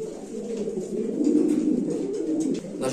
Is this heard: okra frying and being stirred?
no